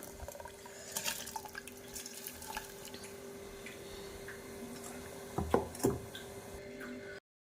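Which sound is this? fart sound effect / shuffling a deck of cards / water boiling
water boiling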